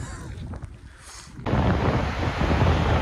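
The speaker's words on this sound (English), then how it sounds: "Just arrived at one of the biggest waterfalls." One of the biggest waterfalls roars as a dense, wide rush of falling water, fainter and windy at first, then jumping to a loud, steady wash that continues to the end.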